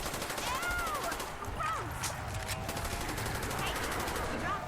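Automatic AK rifle fire in Call of Duty: Black Ops Zombies, a dense, continuous rattle of shots running throughout amid busy game noise, with faint talk underneath.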